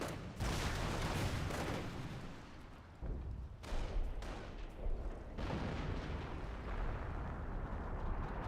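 Heavy artillery barrage from 25-pounder guns in the Company of Heroes strategy game, pounding a Panzer Elite base with repeated loud booming blasts and rumbling explosions that fill the whole stretch, including a brief lull near the middle.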